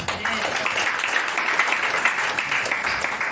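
A church congregation applauds in a steady, dense wash of clapping that lasts throughout, moderately loud and fairly close.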